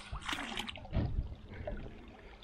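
Pond clay mixture poured into the water of a koi pond, a brief close splash and trickle of liquid with a slightly louder burst of pouring midway.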